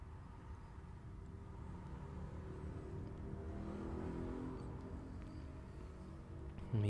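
Electric passenger train on the Main-Spessart line in Train Sim World pulls away under rising throttle, a steady low motor rumble and whir that swells gradually and stays continuous, with no talking.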